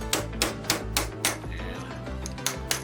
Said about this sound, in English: Usually I just take a little flat punch and a hammer